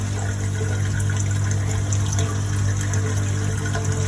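A new aerator pushes air bubbles through water in a heat-exchange barrel fish tank, a steady, close, continuous bubbling and pump hum with no pauses, heard alone without talk.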